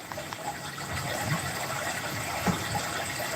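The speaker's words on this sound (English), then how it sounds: "got sound effects in the background. Does anybody hear the water?" A looped water sound effect plays in the background, a constant rushing, gushing flow like a running tap, steady and fairly loud with no voices over it.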